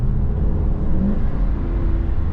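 A 2024 Ford Super Duty pickup with the 7.3L gas engine pulls uphill at high elevation. The engine holds a steady, loud, low rumble from inside the cab, with no talk over it.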